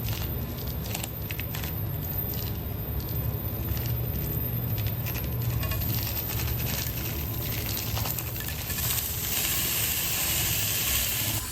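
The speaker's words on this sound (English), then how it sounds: "We're just gonna pop those into a pan like they do in the movie" Four hot dogs cooking in a pan over medium heat give off a steady, close sizzle and hiss, with occasional faint clinks and scrapes as they are moved about, and no talking.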